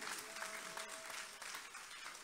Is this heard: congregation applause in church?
yes